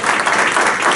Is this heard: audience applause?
yes